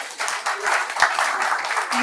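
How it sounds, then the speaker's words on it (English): An audience gives a round of applause, a dense wash of many hands clapping at a moderate level with some voices mixed in. "Give her another round of applause, please."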